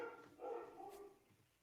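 A dog gives a brief burst of faint, distant barks and yips, two or three quick calls with nothing else around them.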